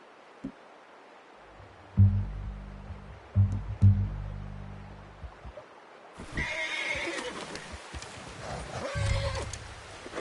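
A horse whinnies and snorts in a few rumbling bursts in the video game Red Dead Redemption 2, then hooves and rustling movement follow over faint background noise.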